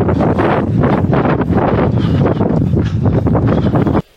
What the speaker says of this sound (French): Il y a un sacré vent là de face.